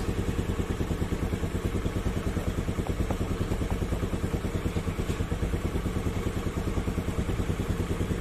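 A motorcycle engine running steadily while its regulator charging output is tested, a continuous rapid mechanical chug with a rhythmic pulse, moderately loud and unbroken throughout.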